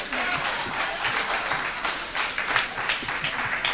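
Audience at an AA meeting applauding, a dense steady patter of many hands clapping indoors, moderately loud and continuous throughout.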